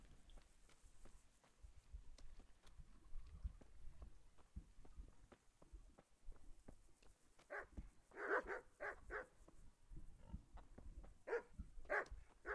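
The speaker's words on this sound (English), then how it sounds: "so there are those clone dogs again" Dogs bark in a village in the game Kingdom Come: Deliverance, a few sharp, fairly loud barks in bursts near the end over quiet ambient noise.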